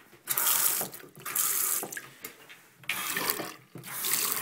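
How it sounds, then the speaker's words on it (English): Bathroom faucet in a master bath with a double vanity runs water into the sink, a close, steady hissing splash that pauses and restarts several times with no talking. "Faucets are working."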